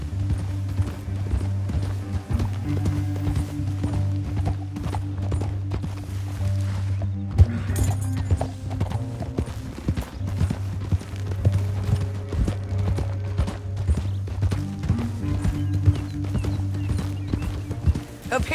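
Horse hooves clip-clopping at a steady gait in the Red Dead Redemption 2 canyon, loud and continuous over a low droning music bed, with a brief break midway before the rhythm resumes.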